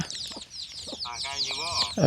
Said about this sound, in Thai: ไก่มันมาใกล้ซื่อได้ยินเสียงมันนั่น